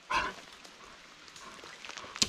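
A single short dog bark close by, followed by quiet rustling and a faint sharp sound near the end.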